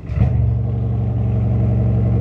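A 2025 Bentley Flying Spur engine catches with a quick burst, then settles into a steady, deep idle rumble up close.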